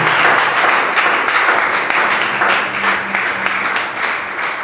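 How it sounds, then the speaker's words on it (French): A church congregation applauds and acclaims God during a French-language service, with dense sustained clapping from a large crowd that holds steady and loud for several seconds. "Est-ce qu'on peut acclamer ce Dieu?"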